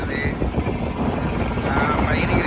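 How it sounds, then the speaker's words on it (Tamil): A boat leaving Rameswaram harbour for Katchatheevu runs with a steady, loud, rumbling engine roar mixed with wind and water noise, while people talk over it. "இப்போ எங்கள் போட்டு ராமேஸ்வரம் துறைமுகத்துலேருந்து கிளம்பி ஓடிக்கிட்டு இருக்கோம்"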